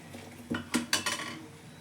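A ladle clinks and scrapes against a pot of boiling Kathiyawadi kadhi simmering over low heat, giving four or five close, bright knocks in quick succession, with no talking.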